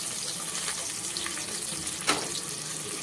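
Finely chopped shallots fry in hot groundnut oil in a cooker, giving a loud, dense, steady sizzle and hiss throughout, with a faint stirring clink near the middle.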